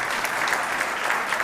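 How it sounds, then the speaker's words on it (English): Brief applause at the Global Poker Awards 2022 ceremony: a room of people clapping steadily for an absent honoree, a short, even burst of many hands at moderate volume. "round of applause for him,"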